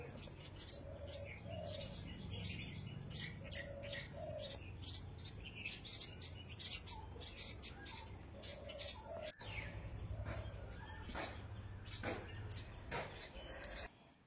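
Birds chirp and twitter steadily around a village house, with doves cooing in short repeated phrases beneath the bright, busy calls throughout.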